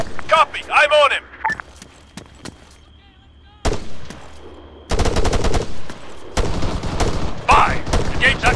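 In ARMA 3, bursts of automatic machine gun fire come as sharp, rapid crackling volleys, with a quieter lull in the middle. Heavier sustained fusillades follow, mixed with squad voices talking over the radio.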